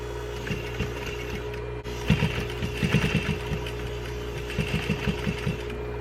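A sewing machine stitches a drawstring face mask upcycled from a T-shirt with a darted design, producing slow, clustered mechanical clicks and soft thuds at close range in short runs, with no talking.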